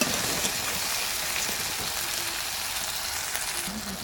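Chopped tomatoes added to a pan of frying ginger and garlic, giving a steady, dense sizzle that holds evenly throughout with faint stirring underneath.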